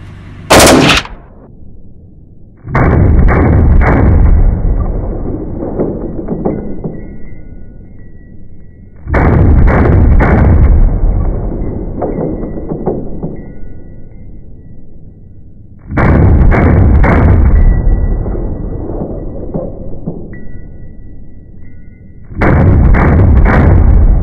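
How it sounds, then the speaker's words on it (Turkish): Automatic bursts from a Turkish-made rifle fitted with a red dot sight ring out loudly at close range in four long strings of rapid shots, with short pauses between them. "Seri atışı deneyeceğiz ve test edeceğiz arkadaşlar."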